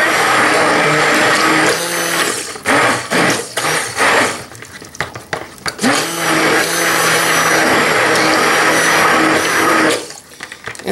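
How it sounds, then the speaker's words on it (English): Stick blender mixing fragrance into gingerbread cold process soap batter: a loud motorized whir in short bursts, pausing with sloshing and clatter, then a longer steady run before cutting off. "I'm going to give it a quick couple of boosts to mix it in here."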